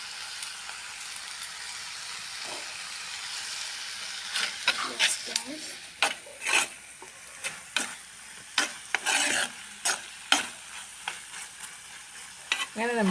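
Squid thoran frying and sizzling in a pan with curry leaves, a steady sizzle broken by a series of sharp scraping stirs of the spoon in the second half, close and moderately loud.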